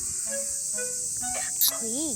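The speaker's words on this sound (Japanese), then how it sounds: "ミンミンゼミです。" A Minmin cicada (Hyalessa maculaticollis) caught in a park gives a loud, continuous high buzzing drone throughout, while a child and an adult talk over it.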